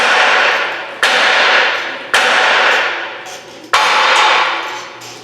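Three sharp metallic hammer strikes on tight metal pins, each ringing out and slowly decaying before the next blow, close and loud.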